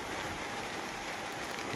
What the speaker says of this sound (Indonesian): kita nikmati suasana alam pedesaan di suasana hujan seperti ini